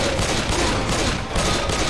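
Sustained automatic gunfire aimed at a Tank in the video game Left 4 Dead 2, a continuous loud rattle of rapid shots with no pause for the short burst.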